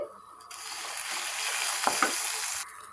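Cumin, coriander seeds and curry leaves fry in a pan with a steady, close sizzle that swells briefly as the leaves go in, along with a faint scrape of stirring.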